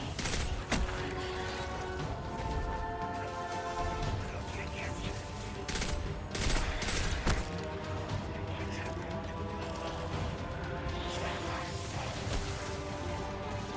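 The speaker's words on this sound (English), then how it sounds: "Just some scout rifle action here." Scout rifle gunfire in Destiny 2, a sci-fi shooter, as repeated sharp shots scattered over a steady bed of game music and mechanical ambience, moderately loud and fairly close.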